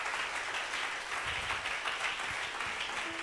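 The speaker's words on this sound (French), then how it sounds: "Acclame bien." A church congregation applauds with steady, dense clapping that holds at an even level, heard as a continuous wash of many hands.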